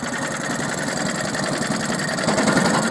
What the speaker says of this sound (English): just bring the revs down a little bit on the engine